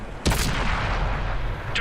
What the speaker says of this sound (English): I'm sure the last thing you expected coming around that little rock there was to be shotgunned by artillery